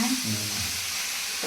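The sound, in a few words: spice masala frying in a pan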